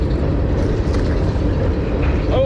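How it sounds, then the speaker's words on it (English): A train passes near Lake Texoma with a loud, steady low rumble that holds through the whole stretch, with no voices over it. "with the train going by."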